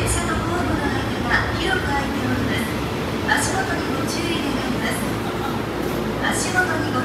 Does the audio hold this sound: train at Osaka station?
yes